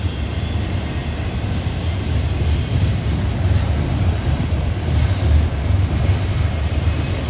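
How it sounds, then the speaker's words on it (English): A Norfolk Southern train rumbles past in Pittsburgh, Pennsylvania, as a loud, continuous low roar and rattle of rolling cars that holds steady throughout. "by looking at the Norfolk Southern train"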